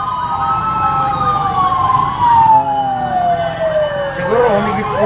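Fire truck sirens wail during a fire prevention parade in Santa Rosa City, Laguna, with several rising and falling tones overlapping loudly and continuously, a second siren sweeping in near the end.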